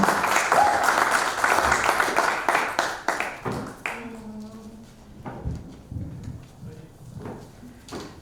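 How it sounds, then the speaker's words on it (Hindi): An audience applauds loudly to welcome a speaker at a Hindi Day celebration, a dense burst of clapping that fades after a few seconds as talk and murmuring take over. "दोनों हाथों से जबरदस्त तालियां बजाकर पूरी ऊर्जा से आज हम स्वागत करते हैं"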